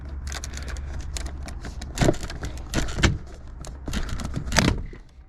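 The rear driver's side door panel of a BMW G32 is pulled off its plastic fasteners, giving a close run of sharp cracking pops, creaks and rustles with no talking.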